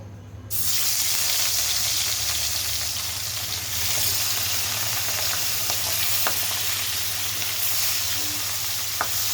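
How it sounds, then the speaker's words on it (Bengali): Fish pieces dropped into hot oil, a loud sizzle that bursts in and holds steady, with an occasional faint click of a utensil. "এখন আমি মাছগুলো সুন্দর করে ভেজে নেব।"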